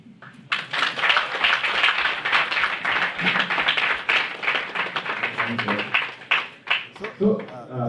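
Audience applause during a live business talk on a university stream, a dense sustained wave of clapping hands lasting several seconds, loud and close, tapering briefly near the end with a bit of talk underneath.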